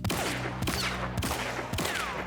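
A Cyclone rifle fires in Hunt: Showdown until its chamber is empty, giving four sharp, evenly spaced gunshots about half a second apart, each followed by a metallic ringing tail.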